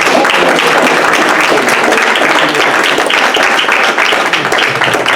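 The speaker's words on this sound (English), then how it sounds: "big round of applause for her" Loud, close round of applause from an audience at a community meeting on homelessness, many hands clapping densely and continuously for about five seconds with faint crowd murmur beneath.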